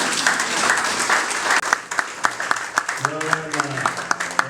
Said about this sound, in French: Sous nos applaudissements, s'il vous plaît.